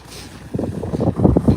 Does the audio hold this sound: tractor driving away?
yes